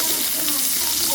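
Garlic sizzles steadily in a hot pan while adobong kangkong is started for breakfast, a continuous close hiss with faint voice underneath.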